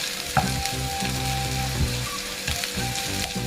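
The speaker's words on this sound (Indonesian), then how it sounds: "Kalau aku numis itu sampai bawangnya agak sedikit kecoklatan." Onions sautéing in a pan until lightly browned, a steady close sizzle and fry with faint scrapes of stirring and a few soft knocks, no talking.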